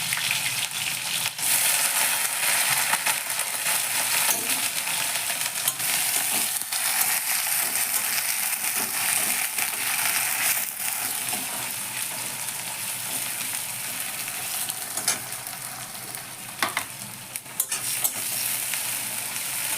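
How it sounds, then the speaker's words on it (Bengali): Chopped onion frying in hot oil with panch phoron, a loud, continuous close sizzle with occasional stirring scrapes throughout. "এবার আমি পেঁয়াজ কুচিটা ছেড়ে দিচ্ছি।"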